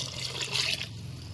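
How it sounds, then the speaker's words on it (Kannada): Water is poured from a jar into a cooking pot for rice in a village-style fenugreek rice dish, a steady close trickle with a brief brighter splash partway through. "ಹಾಕ್ತಿರ್ತೀವಿ ನೀರು"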